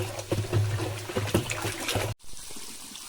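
Grainy Factamfos fertilizer is stirred into water so that it dissolves, making close, trickling, sloshing liquid sounds for about two seconds before a brief cut to quieter, softer water movement.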